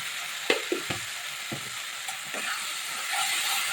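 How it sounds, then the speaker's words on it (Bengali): Taro flowers fry in a pan with a steady hiss of oil, punctuated by several scraping and knocking strokes of a spatula in the first half, then a smoother, slightly louder sizzle. "আমি একটু ভাজা ভাজা করে নিচ্ছি।"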